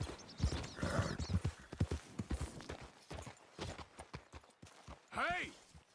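Horse hooves clip-clopping at a run in the video game Red Dead Redemption 2, a rhythmic series of thuds under frequent overlapping speech, ending with a short whinny-like call.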